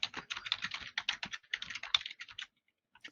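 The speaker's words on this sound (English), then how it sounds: "Somebody's typing." Fast, irregular clatter of a computer keyboard being typed on, close and fairly quiet, in bursts for about two and a half seconds before stopping, then a few more keystrokes.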